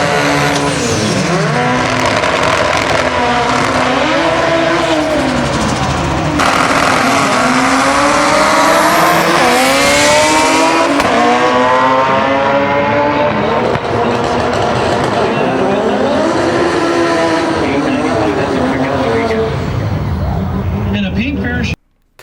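Turbocharged B18-powered Honda drag cars, including a 1992 Civic, rev hard at a street and pro import drag race, their engines climbing in rising pitch sweeps over a steady roar while an announcer talks throughout.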